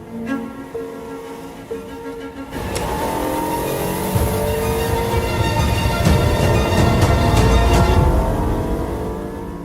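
A Ferrari 365 GTB4 Daytona with a front-mounted V12 revs up from a lighter idle into a sustained loud, rising engine roar that holds steady and close.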